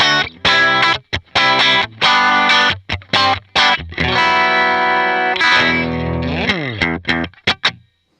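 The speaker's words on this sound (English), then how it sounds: "We went with the Timmy style overdrive." Electric guitar through a Timmy-style overdrive with a warm, crunchy tone plays choppy chords and short riffs. A sustained chord rings out before a few final stabs.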